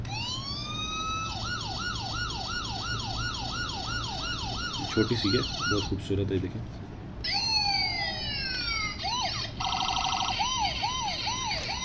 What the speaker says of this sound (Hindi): ये है एक इसके साथ आप ये देखें ना, एक खूबसूरत सी पुलिस कार है इसकी। आप इसका साउंड चेक करें